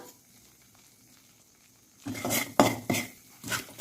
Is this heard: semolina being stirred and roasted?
yes